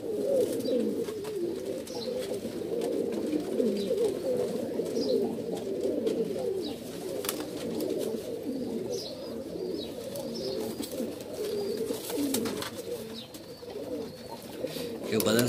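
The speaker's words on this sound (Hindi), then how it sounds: "ये सारे के सारे उड़े हुए कबूतर हैं" Many pigeons coo continuously at a pigeon sale in Bhopal, a dense low warbling chorus close by, with someone talking intermittently over it.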